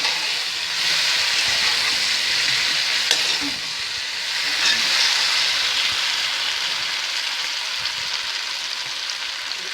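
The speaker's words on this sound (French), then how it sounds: "On va remuer nos bananes pendant 1 à 2 minutes environ" Bananas stirred in a hot pan, a steady close sizzle running throughout with occasional soft scrapes of the spoon and no voices.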